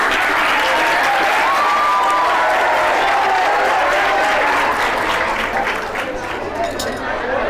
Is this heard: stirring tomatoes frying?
no